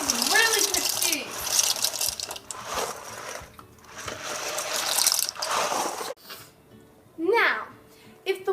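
Dry pasta shells rattle and patter as they are poured into a pot of water in a few bursts of clattering, interrupted by a child's and an adult's voices talking nearby.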